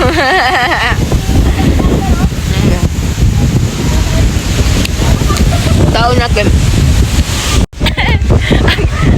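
Loud, constant wind buffeting the microphone with a roaring rumble outside an Orthodox church in North Lebanon, while a person speaks briefly over it.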